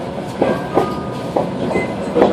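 A tram pulls into a stop on the newly opened line to the PKP railway station in Bydgoszcz, a close, steady rumble with rhythmic wheel clacks and a faint squeal.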